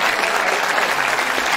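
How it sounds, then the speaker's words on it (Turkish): Steady applause from a concert audience at a spring folk-music choir concert, dense and even clapping filling the whole moment with no voices over it. "Evet, yüksek alkışlarınızla."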